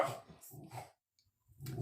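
A dog gives a few loud, close barks in quick bursts, then a brief pause before another bark follows.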